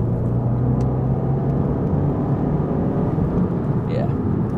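Abarth 500 hatchback with its exhaust droning under acceleration in third gear, heard as a steady, moderately loud low engine hum from inside the car, with a voice speaking over it.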